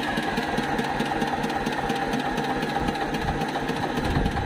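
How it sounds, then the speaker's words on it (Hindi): A tractor engine runs steadily nearby, a rapid rhythmic knocking chug at a constant idle-like pace, moderately loud with no talk. "तो ट्रैक्टर पीछे चल रहा है।"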